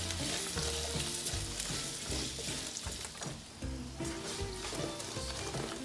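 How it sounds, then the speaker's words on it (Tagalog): Carrots sautéing in a pan for a leftover turkey caldereta, a steady loud sizzle and fry with occasional stirring clatter, no talking. "Pipirituin po muna natin dito yung ating carrots"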